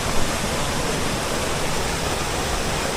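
A natural mountain waterfall on a trekking route near Munsiyari pours with a loud, constant broadband rush of water, close and unbroken from start to finish.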